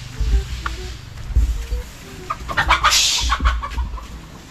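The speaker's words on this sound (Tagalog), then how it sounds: "Matake na naman yung mga manok." Chickens cluck and murmur close by on a farm, with repeated short low calls and a brief higher squawk amid rustling, no clear talking.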